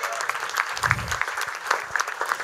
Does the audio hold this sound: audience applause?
yes